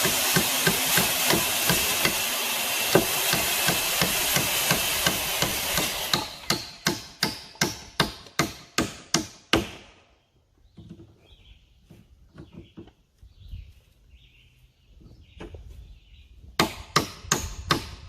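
Nails are hammered into wood wall framing at a header and king stud, a loud rhythmic run of about a dozen sharp blows after a stretch of hissing noise, then scattered quieter taps and a final burst of strikes.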